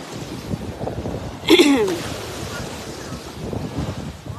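Sea waves wash in at low tide as a steady broadband rush with wind buffeting the microphone. A brief voice breaks through midway.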